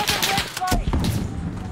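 Rapid gunfire in Call of Duty Modern Warfare campaign, a quick cluster of sharp shots in close succession, loud and near, with game sounds around them.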